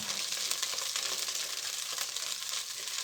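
Onions, garlic and shallot sizzle steadily in butter in a pan for a game tagine, a dense, even crackle that stays close and constant throughout with no voices over it.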